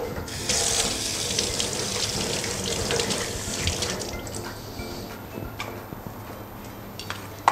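Tap water runs steadily into a sink while squid is rinsed, a continuous splashing stream that fades slightly toward the end, with no talking.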